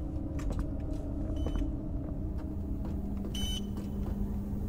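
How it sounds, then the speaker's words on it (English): Faint electronic beeps recur a few times in Poppy Playtime Chapter 2, sitting over a steady low rumble of game ambience with no talking. "Let's see what the beeping is."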